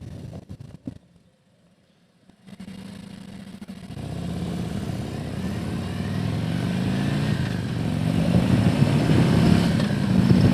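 A Harley Davidson Ultra Limited motorcycle engine runs after a few opening clunks and a brief quiet spell, then a low steady rumble rises and grows slightly louder, close by.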